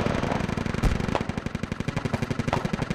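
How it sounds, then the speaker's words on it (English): Video-game machine gun fire, a loud continuous stream of rapid evenly spaced shots rattling close up for the whole stretch, with no voices. "With his machine gun."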